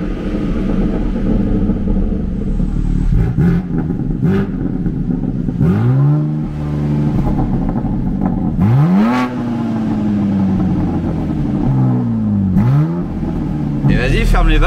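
BMW M4 Competition G82 with a stage 2 exhaust, revving repeatedly in sharp rising sweeps with crackling pops and bangs between revs, loud and close, with people talking over the engine.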